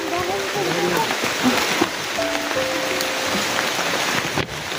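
Very heavy rain pours down steadily and loudly throughout, a dense continuous wash of noise with people talking over it.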